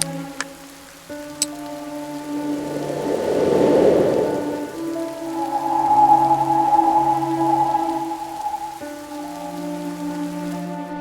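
Steady rain falls in the Mystery Detective video game, a soft continuous patter that swells and fades over tonal game music and a couple of faint clicks, with no voices.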